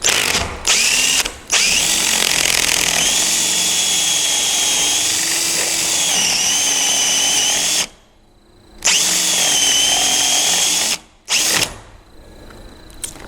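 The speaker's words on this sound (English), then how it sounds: "I'm going to go ahead and drill a straight hole in there" A power drill whirs loudly and close up in long, steady bursts while drilling into a wooden door for a lock, stopping briefly twice before starting again. No one speaks.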